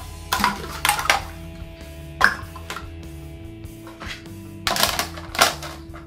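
Metal cooking vessels clatter and plop into a basin of water in scattered bursts, with clinks and splashes, close by amid a low background hum.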